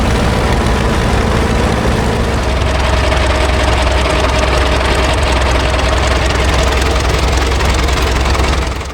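Early Caterpillar tractors, including a 1928 Caterpillar 30, a High Clear 10 and a Caterpillar 20, run with engines rumbling loudly in a steady, close, low chugging idle throughout, with no talk.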